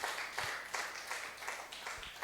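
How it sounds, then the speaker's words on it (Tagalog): Scattered hand claps from a church congregation, soft and somewhat distant, arriving in loose uneven bursts rather than full applause. "Sige nga po, pumalakpak nga po ang lahat ng handa na."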